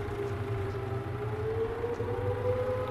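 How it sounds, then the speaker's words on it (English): A steady, wailing air raid siren in the video game In Rays of the Light drones on continuously at moderate volume, slowly rising in pitch over a low background hum. "we hate that sound of the air raid siren."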